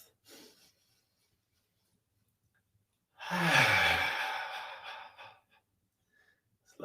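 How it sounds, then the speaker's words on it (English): A single deep breath during qigong practice: one long, close, audible exhale of about two seconds, soft at the start and trailing off, with quiet stillness around it. "One more breath."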